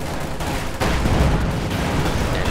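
Machine gun fire crackles as dense, continuous bursts in a Company of Heroes 2 battle, loud and unbroken, swelling slightly after a short pause.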